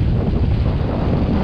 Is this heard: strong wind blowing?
yes